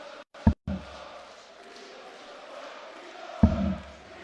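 A darts arena crowd at the International Darts Open 2022 final between Gerwyn Price and Peter Wright makes a steady murmuring hubbub, with two brief loud thumps or shouts rising out of it.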